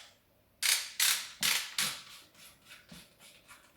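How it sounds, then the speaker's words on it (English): The fore-end nut of a pump-action shotgun is unscrewed by hand. A close, quiet run of sharp rasping clicks comes quickly at first, then slows and fades. "unscrew the fore end nut"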